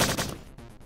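A sentinel robot in the shooter Strife fires at the player inside Bishop's Tower fortress: a loud burst of gunfire up front that quickly trails off into a quieter, rumbling tail.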